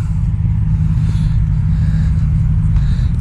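Turbocharged 1968 VW Beetle with a chopped top, 2110 engine and carburetor running at a loud, steady low idle rumble, close by, with no voices over it.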